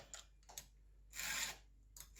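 A round file rasps along a chainsaw chain in short strokes: a couple of light scrapes, then one longer, louder grinding pass, then another brief scrape, close and quiet with no talk.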